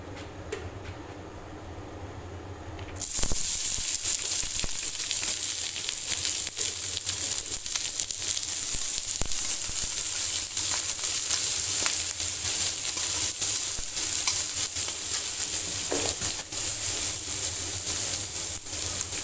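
Onions frying in hot oil in a kadai, a steady loud sizzle that starts abruptly after a quiet opening and hisses on continuously.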